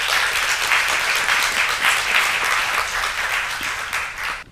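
Sustained, dense applause fills the room at a press conference launching the free Bison Futé mobile app, a steady wash of many hands clapping from a seated audience, fading slightly at the end.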